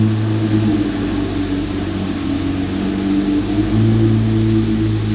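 Lamborghini engine running close by, a loud steady low-pitched mechanical drone with slight swells in tone and no talk over it.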